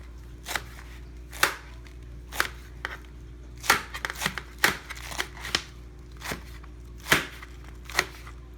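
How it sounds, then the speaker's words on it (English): A kitchen knife slices food on a cutting board in sharp, separate chops, roughly one per second and occasionally in quick pairs, close and clear over a low steady hum. "And then I'm going to start cutting."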